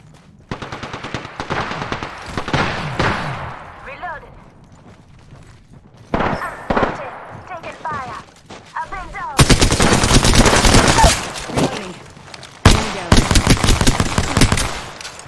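Gunfire in the Apex Legends game: bursts of rapid automatic shots and single cracks, close and loud, with quieter gaps between exchanges and a long sustained volley near the end.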